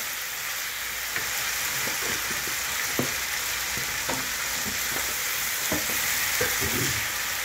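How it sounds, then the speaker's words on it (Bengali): Garlic frying in a pan, a loud continuous sizzle with sharp scraping stirs of a spatula every second or so, close up and without talk. "রসুনটা ভাজা হয়ে গেছে খুব ভালো মতো"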